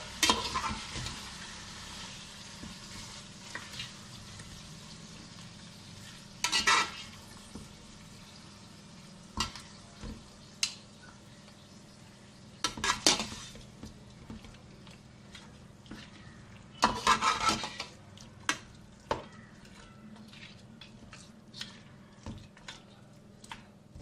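Mutton stirred in a pan: a quiet, soft sizzle runs under intermittent scraping bursts and clinks as the spoon works through the meat.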